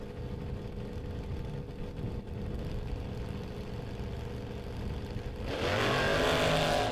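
A Mercury Capri drag race car at Maple Grove Raceway, a steady distant engine drone that swells into a louder, harsher burst of acceleration near the end.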